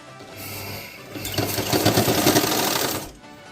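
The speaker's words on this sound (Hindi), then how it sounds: "जो यहाँ पे खांचा है इसके अंदर हम सिलाई मारेंगे।" A sewing machine stitching blouse piping: a rapid, steady mechanical whir of needle strokes that ramps up, runs for about two seconds close by, then stops.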